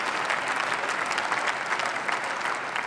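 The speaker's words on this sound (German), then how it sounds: "Der Beifall gilt dem Finanzminister." Parliamentary applause for the finance minister, a dense burst of many hands clapping steadily and fairly loud throughout, with no voices standing out.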